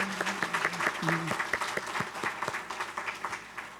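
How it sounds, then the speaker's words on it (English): A room full of people applauds warmly, the claps thinning toward the end, with a few voices and cheers mixed in. "So now you can applaud."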